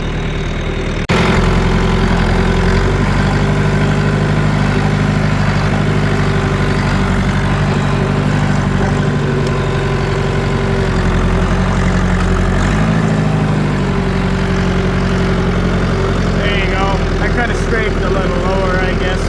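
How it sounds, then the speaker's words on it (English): A farm vehicle drives back and forth packing silage taken from an ag bag, its engine running at a loud, steady idle-like drone close by throughout, with a slight shift in pitch partway, and people talking over it. "We're just gonna keep driving back and forth as we get silage from the ag bag, and that will help it pack it down."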